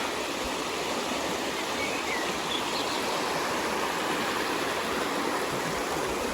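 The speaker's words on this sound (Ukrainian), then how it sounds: "вийшла вам зняти цю річечку і сказати, що ця річка називається Великий Піня." The Velykyi Pinia river flowing, a steady, loud, close broadband rush of water that holds constant throughout with no talk.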